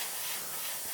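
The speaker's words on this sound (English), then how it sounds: "I'm spraying the wings, and it takes multiple passes" An aerosol spray can coating the wings of a Tyranid miniature with white paint gives a continuous soft, airy hiss for the full second, close but fairly quiet, with no talking.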